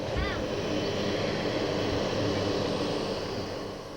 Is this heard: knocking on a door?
no